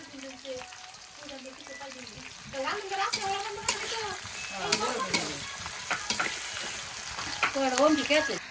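Khichuri with meat, lentils, potatoes and green chillies being stirred in a large pot for a picnic, the spoon scraping and churning through the thick mix over a steady frying sizzle while people talk nearby.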